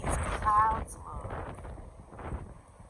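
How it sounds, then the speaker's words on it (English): Wind gusts buffet the microphone outdoors under a sky of fluffy white clouds, a low rumbling rush that swells near the start and then eases. "Sorry about the wind."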